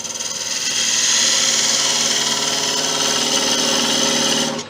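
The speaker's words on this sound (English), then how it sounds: "I'm going to part it with a narrow parting tool" Narrow parting tool cutting Tigerwood on a wood lathe: a loud, steady, close scraping whine with a constant tone that holds for several seconds and stops abruptly at the end.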